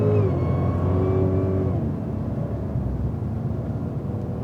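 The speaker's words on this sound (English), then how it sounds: "So let's get on the gas here" A Cadillac CTS-V accelerating hard on a race track, engine note climbing steadily through the gears as a sustained, fairly close drone with no talking.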